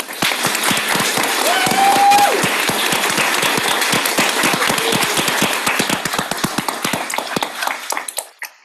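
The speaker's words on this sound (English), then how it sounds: "join me with one last round of applause for our graduates" An audience at a Guiding Eyes graduation ceremony in Yorktown Heights, NY applauds the graduates with full, lively clapping that gradually thins into scattered individual claps and dies away at the end.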